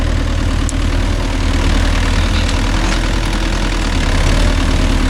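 Diesel engine of a Mahindra Yuvo Tech Plus 575 4WD shuttle-gear tractor hooked to a five-point cultivator, idling with a steady, loud, low rumble and faint knocking throughout, heard close up with no voices.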